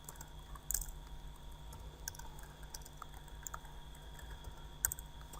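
Keystrokes on a computer keyboard as text is typed into a website's projects page: sparse, faint clicks over a steady low room hum, with no voices.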